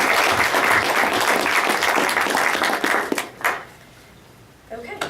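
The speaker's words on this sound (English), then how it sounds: "applause." Audience at a university chemical engineering graduate student awards ceremony claps in a loud, steady round of applause that fades out after about three seconds, followed by quiet room noise.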